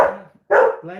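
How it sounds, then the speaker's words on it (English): A dog in a home in Glasgow barks loudly at close range, two strong barks separated by a short pause, while a person speaks briefly. "That's the dog who's going to bark occasionally."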